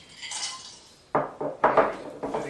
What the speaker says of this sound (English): Just dump those ice cubes out.